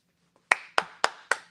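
Four sharp hand claps in a steady, evenly spaced rhythm, close and distinct, ringing out alone in a radio studio after a faint soft tap.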